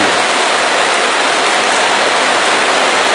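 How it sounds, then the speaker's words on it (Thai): Heavy rain pouring down outdoors in Udon Thani, Thailand, a dense, steady, loud hiss with no pauses and no voices. "ก็ฝนตกนะครับฝนตกค่อนข้างจะ"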